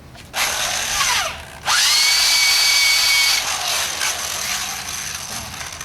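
A power drill fitted with a stripe removal tool whirs loudly and close in two long bursts, with a short pause between them, and its pitch sweeps as the motor spins up and winds down.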